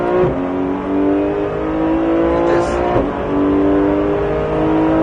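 A Porsche GT3 race car engine revs hard on the Pôle Mécanique Alès circuit and climbs in pitch, shifts, then accelerates again, loud and close throughout.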